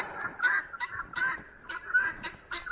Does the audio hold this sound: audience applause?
no